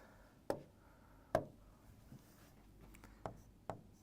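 Chalk or marker strokes on a board during an engineering mechanics lecture on a single slider crank mechanism, sounding as a handful of sharp, separate taps and scrapes spaced irregularly in a quiet room, with no voices.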